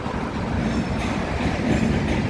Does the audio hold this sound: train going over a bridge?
yes